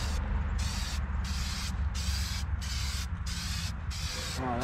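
A spray gun lays a base coat of paint onto a snow plow in bursts, each a close, loud hiss with brief regular gaps between passes, under a low steady background rumble.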